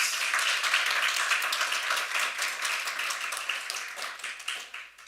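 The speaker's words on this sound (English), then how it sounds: "Can we give her a round of applause?" A round of applause for a nominated author introduced at a panel discussion on youth and gender voter participation; dense, sustained clapping from a sizeable audience, steady and fairly loud throughout.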